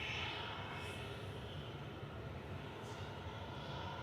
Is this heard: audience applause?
no